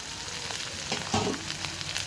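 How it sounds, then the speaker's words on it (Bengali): Chopped onion, garlic and green chili frying in a pan, a steady soft sizzle with occasional louder crackles and a brief stirring scrape, close up and without talk. "আর এর মধ্যে দিয়ে দেব বেশ খানিকটা পেঁয়াজ আর রসুন আর লঙ্কা কুচানো"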